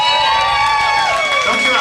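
Loud crowd applause and cheering for a carnival band at a gala, a dense sustained roar of many people close by, with voices shouting through it.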